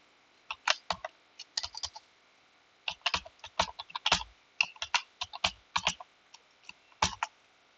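Arduino code is typed on a computer keyboard in bursts of crisp, close clicking. Each bursts of keystrokes is separated by short pauses.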